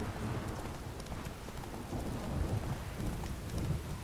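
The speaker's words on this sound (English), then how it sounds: "Lightning strike." Thunder rumbling after a lightning strike in The Witcher 3 game, a low continuous roll blended with steady rain hiss, fairly quiet and unbroken.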